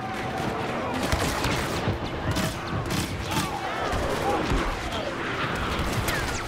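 Rapid blaster gunfire from the Star Wars Battlefront video game, with dense overlapping volleys and explosions running continuously at steady loudness throughout.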